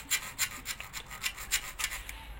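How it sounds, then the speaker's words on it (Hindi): A saw blade scratches a mark into a workpiece with quick, rhythmic rasping strokes, about a dozen short scrapes close by, with no talking. "तो हम इस आरी ब्लेड की मदद से हम इसको यहाँ से निशान मार देंगे।"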